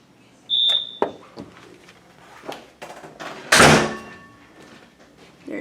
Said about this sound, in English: I'm gonna press the doorbell button